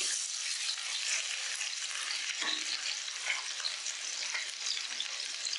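Green chilli and ginger fry in hot oil for millet pongal, a continuous close sizzle with the scrape of stirring running through it and no talk.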